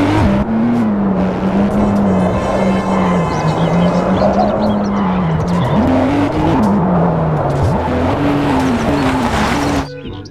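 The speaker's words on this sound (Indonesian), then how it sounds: "Di sini ada mobil balap McQueen." A toy Lightning McQueen race car plays its sound effect: a loud, continuous revving engine whine that rises and falls with screeching tires, cutting off abruptly at the end.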